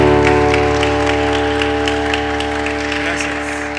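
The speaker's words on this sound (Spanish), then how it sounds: "Un aplauso a Dios" Congregation applauding during a church service, sustained clapping heard under steady sustained music tones, fairly loud and continuous throughout, with no talk over it.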